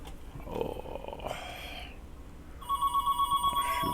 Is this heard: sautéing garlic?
no